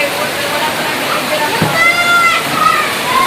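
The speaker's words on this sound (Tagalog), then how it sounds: "kusog kaayo ang uwan" Heavy rain pours in a steady, loud roaring wash while a person speaks over it.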